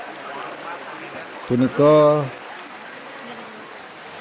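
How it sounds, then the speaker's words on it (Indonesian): Very heavy rain pours steadily in an outdoor Balinese temple setting during a melasti procession, a dense constant hiss, briefly interrupted by a man's spoken word. "turunnya hujan yang sangat deras"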